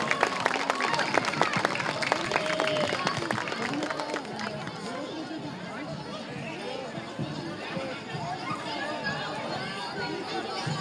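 Crowd applause and cheering at a college Christmas concert after a school group performs, dense and steady at first, thinning into scattered clapping and murmuring chatter.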